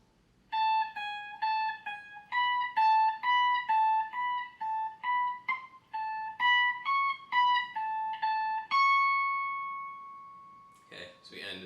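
Clean, bright single notes picked slowly one after another in a guitar solo, a steady melodic run that ends on a long sustained note, followed by a brief burst of noise.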